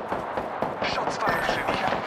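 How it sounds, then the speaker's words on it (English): Rapid gunfire from Apex Legends rattles in a dense, near continuous burst of sharp shots, loud and close, with clustered cracks layered over game sound. "Shots fired."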